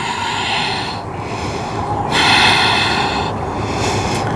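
Deep breathing held through a power yoga pose: slow, loud, close breaths drawn in and pushed out through the nose and mouth in a few long, even cycles, with no talking.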